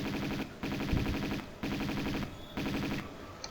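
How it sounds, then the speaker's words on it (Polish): Enemy gunfire in Tomb Raider II (1997) on an offshore rig: repeated bursts of rapid automatic fire, about four in a row, each roughly a second long with short gaps between them, loud and close. "A to tamten strzela we mnie"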